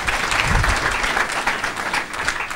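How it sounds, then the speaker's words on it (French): A crowd applauds a university rector's speech steadily, a dense wash of clapping from many hands throughout, at moderate volume. "qui mérite encore des applaudissements."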